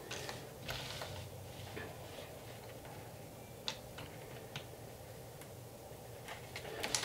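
Sewing machine stitching a seam on a crossbody bag, a faint mechanical whir with light ticking and clicking, a few sharper clicks scattered through and more near the end.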